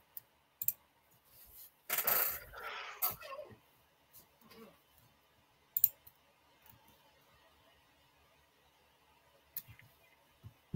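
Quick clicking and clacking of a Rubik's cube being turned rapidly during a speedcubing solve at a head-to-head competition, short bursts of plastic turns with a dense flurry in the middle, fairly faint and close.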